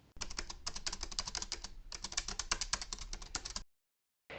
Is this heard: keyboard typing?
yes